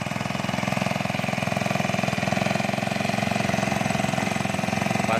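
A Yamakoyo PG435 four-stroke brush cutter engine idles close by with a steady, even, fast-pulsing putter that holds at one level throughout, with no talking.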